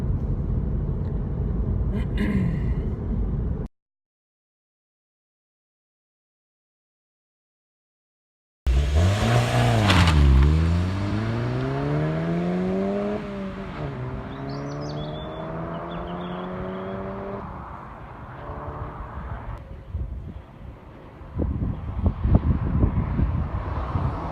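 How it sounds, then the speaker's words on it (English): A Mk7 Golf GTI hatchback revs up through the gears with a rising, droning exhaust note, loud and close, after a silent gap, then settles into steady road rumble. "I'll give it a bit throttle once we come out of the 30 zone, so you can hear what it's like"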